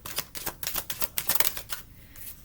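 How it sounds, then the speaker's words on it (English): A deck of tarot cards is shuffled close up, a quick series of crisp riffling flutters in uneven bursts that trail off near the end. "Let me give it a quick shuffle."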